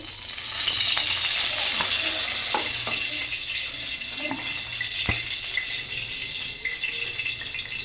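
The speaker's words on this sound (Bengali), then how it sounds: "তোমার মাছ ভাজা হয়ে গেছে, আগুন দিয়ে দিতে।" Fish frying in hot oil in a wok on a gas stove, a steady loud sizzle throughout with occasional sharp crackles and clinks of a utensil, no talking.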